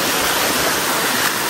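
Water rushes continuously in a small village stream in Nepal, a steady, full broadband hiss heard close up with no voices.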